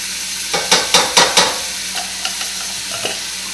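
Chopped garlic and yellow onion being stirred into frying bacon in a pan, with several quick scraping strokes up front, then softer stirs over a steady background sizzle.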